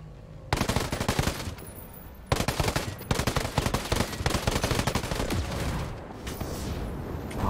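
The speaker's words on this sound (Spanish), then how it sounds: "¿viste ese disparo distractor que le hice?" Rapid automatic gunfire in Tom Clancy's Ghost Recon Breakpoint comes in loud, dense bursts with brief gaps between them, close and dominant, with no talk over it.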